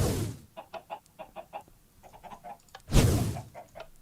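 Chickens in the video game Minecraft cluck in a quick run of short, evenly spaced calls, then a loud burst of noise and a few more clucks follow, all fairly close with no talk.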